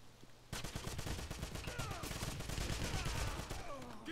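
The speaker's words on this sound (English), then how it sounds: "Where am I being shot from?" Rapid bursts of gunfire from first-person shooter Wolfenstein-style combat, with player targeted by enemy soldiers; dense, continuous crackling volleys after a sudden start, sharp repeated shots layered over ricochets and game effects.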